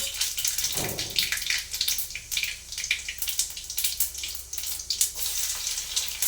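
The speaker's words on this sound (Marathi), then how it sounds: "तेल चांगलं तापलेलं आहे त्यामध्ये टाकते मोहरी मोहरी छान तळतळली की लगेच जिरं टाकते" Mustard seeds spluttering in hot oil, a dense crackling sizzle with rapid sharp pops that runs steadily throughout, close and fairly loud, with no voices.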